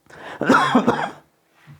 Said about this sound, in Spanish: Me van a tener que perdonar esta carraspera.